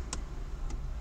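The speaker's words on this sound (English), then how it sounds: "You hear the buttons clicking?" Two quick clicks from the trunk lock buttons of a 2020 Mercedes-Benz CLS 450, spaced about half a second apart against a low steady hum.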